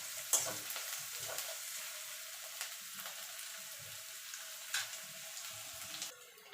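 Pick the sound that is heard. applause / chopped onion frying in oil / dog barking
chopped onion frying in oil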